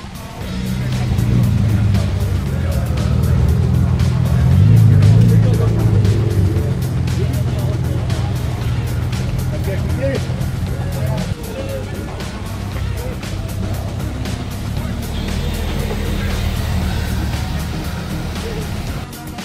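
Car engine running steadily at a racing event on the Nürburgring Nordschleife, a loud continuous drone with gear changes, held close throughout without speech.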